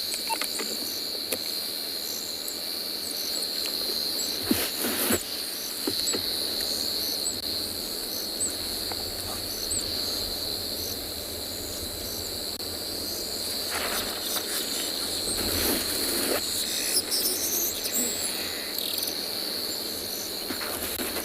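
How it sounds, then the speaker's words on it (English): Dense, steady chorus of crickets and insects at sunset on a safari reserve, sustained evenly throughout with a few faint rustles and occasional distant birds, no voices. "allow you to hear the crickets"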